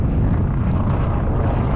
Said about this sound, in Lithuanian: Sraigtasparnis.